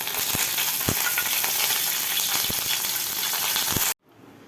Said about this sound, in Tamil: கடலைப்பருப்பு வாழைக்காய் கூட்டை தாளிச்சாச்சு.